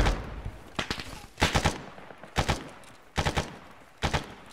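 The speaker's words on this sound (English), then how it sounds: "There's a techie shooting at us from the road as well." Gunfire from a technical in the military video game Arma 3, heard as five short automatic bursts of several rounds each at fairly regular intervals, moderately close with nothing else over it.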